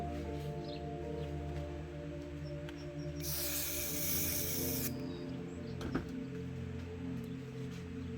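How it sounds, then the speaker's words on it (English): Dark blue aerosol paint sprays onto a mountain shape in spray paint art: a single bright hiss of about a second and a half over a quiet, steady background hum. "I sprayed some dark blue on there."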